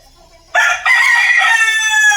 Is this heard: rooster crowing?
yes